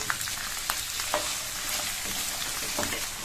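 Cut potatoes frying in oil with lightly fried garlic, a steady close sizzle with intermittent soft scrapes and clinks of stirring, no speech.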